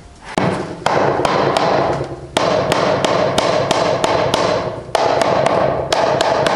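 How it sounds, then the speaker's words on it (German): A rubber mallet hammers a sewage pipe into a wall, giving loud, close, irregular thuds, about a dozen sharp knocks with short ringing decays, spaced unevenly with brief pauses between groups. "Ich hämmer noch ein paar Mal mit dem Gummihammer drauf und dann ist es in der Wand."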